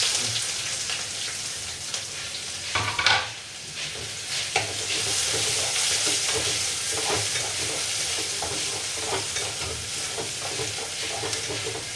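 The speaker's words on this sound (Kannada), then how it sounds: "ಬೆಳ್ಳುಳ್ಳಿ ಸ್ವಲ್ಪ ಕೆಂಪಾದ್ಮೇಲೆ ನೀರುಳ್ಳಿ ಹಾಕ್ಬೇಕು. ಈಗ ನೀರುಳ್ಳಿ ಹಾಕ್ತಾ ಇದ್ದೇನೆ." Onions go into hot oil in a pan with garlic and curry leaves for a Kannada jackfruit dish, sizzling and hissing loudly and steadily. A stirring clatter breaks in once early on, and a few soft scrapes follow, with no voices.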